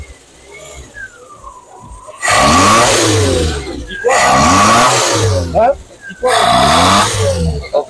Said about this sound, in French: j'accélère. Et j'accélère, le moteur, il demande de l'air.